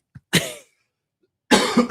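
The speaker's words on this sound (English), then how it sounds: "Sorry, I'm about to cough." A single sharp cough bursts out, followed by a pause of silence and then another harsh, raspy cough, both close and loud.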